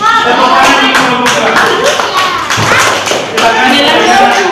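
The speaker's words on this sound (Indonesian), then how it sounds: "Tepuk tangan untuk kelompok" Classmates in an Indonesian primary classroom clap for a student group after its presentation, a fairly close, dense burst of hand claps that runs steadily for several seconds.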